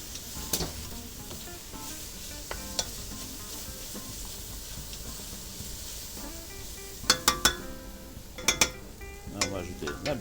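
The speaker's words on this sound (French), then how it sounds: "Alors, on ajoute du beurre dans la casserole," Butter and onions sizzle steadily in a saucepan while a sauce is made, with a constant frying hiss and occasional clinks of utensils against the pan.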